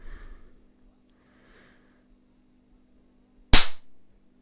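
A sharp, loud electrical crack as an HP 6516A high-voltage power supply shorts at 3 kV, a single burst with a brief tail after near silence and a faint steady hum.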